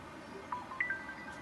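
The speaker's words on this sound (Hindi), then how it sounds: "किसका फोन बज रहा है?" Faint mobile phone ringing in an indoor drama scene: a few short, thin electronic chirps rising and falling over a quiet room hum.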